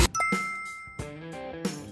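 A short doorbell-style ding-dong chime plays as a sound effect, with bright ringing tones repeated in separate strikes, clear and close with no talk over it.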